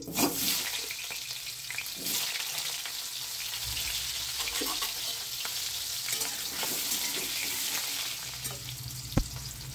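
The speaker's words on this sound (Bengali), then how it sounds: "আমি এবং এই তেলের মধ্যে আলুটাকে ভেজে নিচ্ছি।" Quartered potato pieces fry in hot oil with a dense, steady hiss and spatter, stirred now and then with soft scrapes, close and even throughout and ending with a sharp knock.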